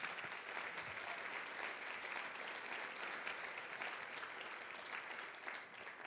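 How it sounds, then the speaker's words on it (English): An audience at a National Philanthropy Day luncheon applauds, sustained clapping from a crowd in a hall that stays even, then eases slightly near the end. "Huge round of applause."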